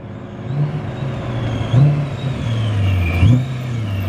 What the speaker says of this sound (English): Here we go, the supercharged M3 pulling up.